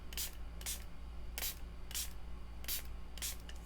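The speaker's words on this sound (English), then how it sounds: "And then I'm going to spray this and then let it all dry." A spray can sprays over a painting in six short bursts of hissing, each under half a second with brief pauses between, quiet and close, with no talk.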